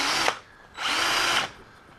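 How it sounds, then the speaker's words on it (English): A power drill with a self-centering bit whirs in two bursts, a short one then a longer one, boring screw holes for door hinges, loud and close, with no talking. "self-centering drill bit."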